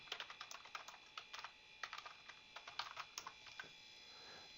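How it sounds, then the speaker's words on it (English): Typing on a computer keyboard for a PowerPoint exercise, a quiet close series of irregular light key clicks in short bursts with brief pauses, no voice over it. "So let's type this in"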